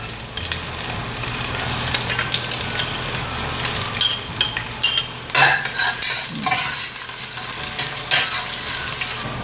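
Ginger and garlic sautéing in hot oil, a steady close sizzle with a spatula stirring and clinking against the pan, growing busier and louder partway through as ingredients are tossed.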